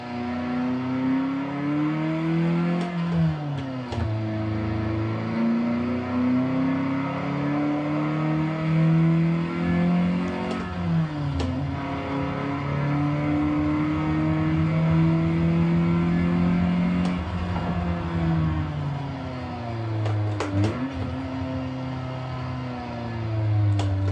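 A manual-transmission car engine on a track revs up repeatedly, its pitch climbing and then dropping at each gear change, loud and close throughout with no talk.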